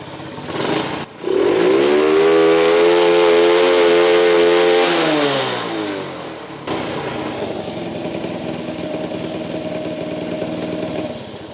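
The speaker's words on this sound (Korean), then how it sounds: "그리고 풀 스로틀 한번 당겨 볼게요." An underbone motorcycle engine snaps to full throttle, climbs to a loud, sustained high-revving whine for several seconds, then drops back to a rougher, quieter idle.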